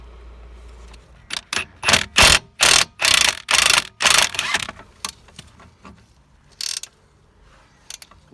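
An impact gun works against a spanner on the bolts of an Astra H front shock absorber, a series of loud, harsh rattling bursts of a second or so each, close by, followed by sparser short clicks and clanks.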